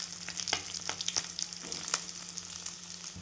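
Pea rice frying in oil in a pan, a close, steady sizzle with repeated light scrapes and taps of a spoon stirring it.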